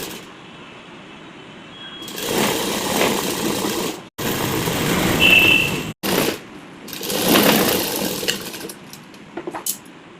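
A sewing machine stitches the folded hem of a baby frock in several bursts of steady mechanical whirring, separated by brief pauses, close and moderately loud with no talking.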